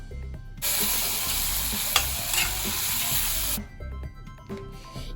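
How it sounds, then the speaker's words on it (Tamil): Chicken with curry masala fries in a pan, bursting into a loud, hissing sizzle for about three seconds. The sizzle then drops to a quieter crackle with scraping stirring sounds. "நம்மளுடைய சிக்கனை சேர்த்துப்போம். இதில் நம்ம கொஞ்சோண்டு கறி மசாலா சேர்த்து நல்லா மிக்ஸ் பண்ணிப்போம்."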